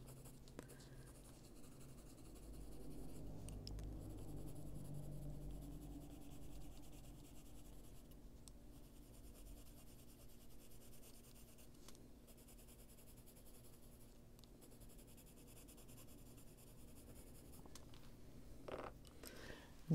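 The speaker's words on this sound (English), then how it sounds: "turning my pencil and making sure the sharp edge touches the paper" A pencil sketches fur-like hair lines on paper with its sharpened edge, giving a soft, steady scratching that runs throughout, louder early on and quieter later, with no voices.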